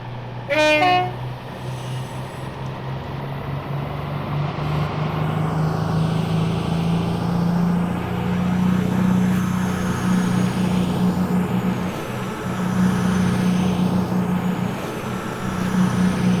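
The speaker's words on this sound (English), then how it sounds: "Bit of thrash, so we can hear them engines." Class 222 diesel multiple unit engines in Train Simulator Classic thrash under load with a steady, loud droning throb, opening with a brief horn-like toot and building as the train pulls away alone.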